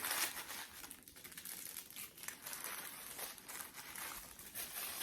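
Tissue paper wrapping jewelry from a subscription box crinkles and rustles as it is unwrapped, a close, continuous papery crackle lasting several seconds with no one talking.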